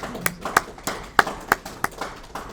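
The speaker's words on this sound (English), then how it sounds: "let's give it a round of applause for Lauren and Sarah" A small audience at a music therapy presentation gives sparse applause, a handful of separate, evenly spaced claps at moderate volume with no voices over them.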